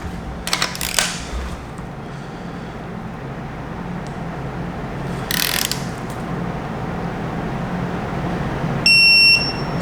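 Ratcheting torque wrench tightened to 60, a few sharp ratchet clicks near the start and middle, then a brief high electronic beep at the end over low background hum.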